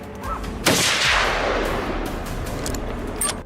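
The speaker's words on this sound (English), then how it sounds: "A precise shot tore through the air, racing against the fleeing target's speed." A single loud rifle shot fired while hunting wild boar outdoors: one sharp close blast followed by a long rolling echo that slowly decays, with no voices.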